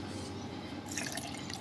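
Water poured into a mixer jar holding chopped apple, carrot and beetroot, a short close trickle and splash of liquid.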